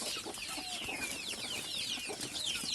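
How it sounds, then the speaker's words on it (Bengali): Several egg-laying hens and roosters cluck and chirp nearby in quick, overlapping calls against a soft background hum. No one speaks. "যেগুলো বড় ডিম পাড়া মুরগি এবং মোরগ"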